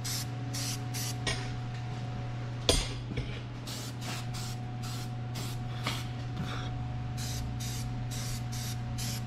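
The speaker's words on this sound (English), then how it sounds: "Let's just spray a little." Short bursts of an aerosol spray can hiss repeatedly during a fuel system revamp, a dozen or so spaced spurts over a constant low electrical hum and faint clinks.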